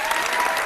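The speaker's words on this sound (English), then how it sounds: "I got an audience applause. We're giving her rounds of applause." An audience breaks into applause, a dense wash of clapping that fills a short moment at steady loudness.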